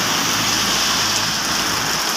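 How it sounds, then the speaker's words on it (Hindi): Heavy rain pours down steadily, a dense continuous hiss filling the whole clip with no talking. "बहुत ज़्यादा बारिश है अभी"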